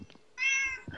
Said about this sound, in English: What is it, the cat?